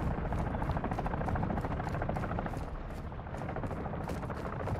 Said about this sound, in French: Bon, hélico là-bas.